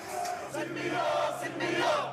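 A large crowd of protesters in Algeria massing in the street, a dense continuous roar of many voices shouting and chanting together, loud and steady throughout.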